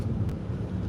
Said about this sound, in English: Breezy, very windy.